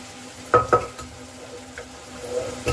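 Cooked yellow rice stirred into a pan of tempering, a few scraping, clattering stirs with a soft sizzle beneath, close up and without talk.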